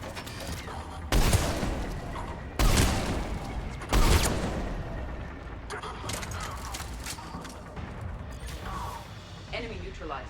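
Gunfire in Mass Effect 3 Legendary Edition, three sharp, loud shots spaced over a few seconds, each with a ringing tail, followed by a quieter stretch of scattered battle noise and in-game voices.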